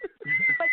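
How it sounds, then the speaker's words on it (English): A person whistles a sustained, steady tone that runs nearly the whole short moment, fairly loud and close, with a brief murmur of voices at the start. "Wait a minute, who is whistling?"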